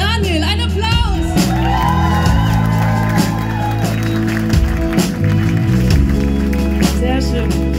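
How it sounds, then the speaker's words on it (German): A live audience at a club concert in Mannheim shouts, whoops and cheers over the band's sustained playing, with voices rising and falling through the whole stretch. "An der Gitarre, Daniel, ein Applaus!"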